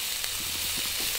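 Pork steak sizzles in a pan over high heat, a constant loud hissing fry with faint crackles running throughout.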